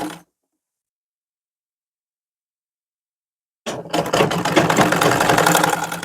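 A sewing machine stitches a bias strip onto a suit neckline, a close, steady mechanical run that starts after a stretch of silence and continues to the end.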